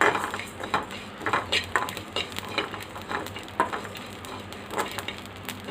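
A spoonful of cumin seeds frying in a pan for fish curry, sizzling steadily while a spoon stirs and scrapes against the metal in repeated close clinks.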